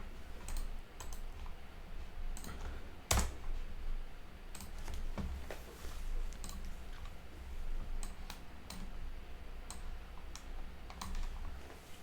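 Quiet, close keystrokes on a computer keyboard tap out a short string of text in irregular bursts, with one louder key press partway through and no voices.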